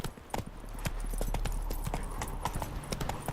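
Horse hooves clip-clop at a steady trot in The Witcher 3, close and loud with rapid even beats.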